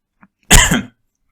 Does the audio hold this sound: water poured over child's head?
no